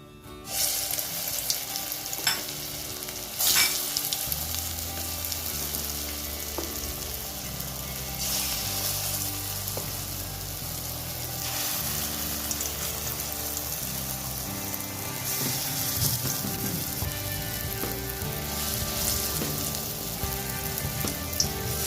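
Lentil fritters (dali bora) sizzle and crackle in hot oil in a wok, a steady hissing fry with faint clinks, continuous and close throughout.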